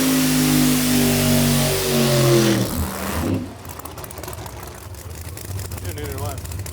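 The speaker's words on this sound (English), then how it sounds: "Big burnout from Jim. But now it's Dave Fetter's turn to answer back." Drag race car engine, a 1968 Chevelle, revving hard through a burnout at a drag strip, a loud sustained roar with a rising whine that cuts off abruptly, leaving rumbling idle and crowd noise behind.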